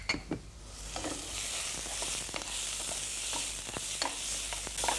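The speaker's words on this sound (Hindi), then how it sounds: "इन सब चीज़ों को थोड़ा सौते करें" Celery and finely chopped carrot sauté in a pan for soup, giving a steady broadband sizzle with scattered scraping stir strokes and utensil clicks throughout.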